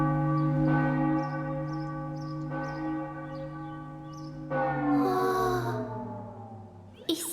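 A church bell rings loud and close in a few resonant strikes. Each long, humming tone decays slowly and the strikes overlap, with faint higher clinks between them.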